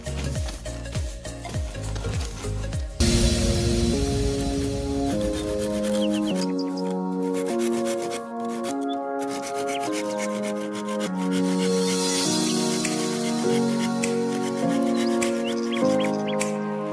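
A handsaw cuts wood with repeated rasping strokes, close and steady, under a continuous melodic background music bed.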